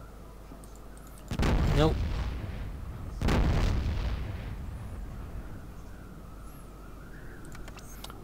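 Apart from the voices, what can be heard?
gunfire in Fallout Tactics video game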